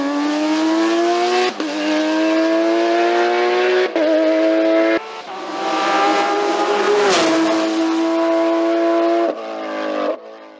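A self-built Porsche 997 GT3R race car climbs a Vuillafans hillclimb course, its engine screaming up through the revs close by with sharp gear changes every couple of seconds and one long wail near the top.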